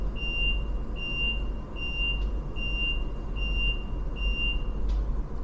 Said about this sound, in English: On hearing the alarm signal, you should move directly to the next carriage.